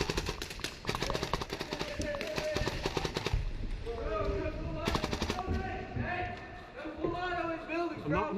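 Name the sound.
rapid semi-auto gunfire from a real Halo MA5D style rifle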